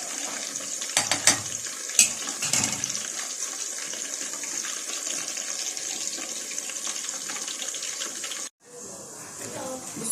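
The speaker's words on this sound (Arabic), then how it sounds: "نصفي بقى المكرونه." Water from a pot of cooked pasta pours into a sink through a strainer in a home kitchen, a steady rushing splash with a few clanks of the pot, then a brief cut and the pour resumes.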